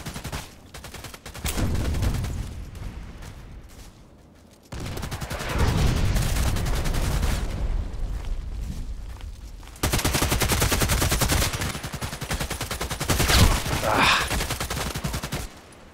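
AK-12 assault rifle fire in the video game Contract Wars, several long, rapid automatic bursts separated by brief pauses, loud and close, with a voice talking faintly underneath.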